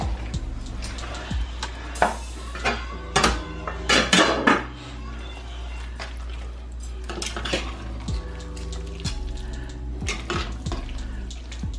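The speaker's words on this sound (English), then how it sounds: "is put the sour cream in it and mix it up" Sour cream being stirred into beef stroganoff in a pot, with repeated metal spoon scrapes and clinks against the pot, irregular and close, over a steady low background hum.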